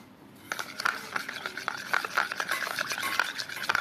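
Homemade slime is stirred and mixed in quick, repeated strokes that start after a brief quiet moment and continue steadily, close and fairly soft.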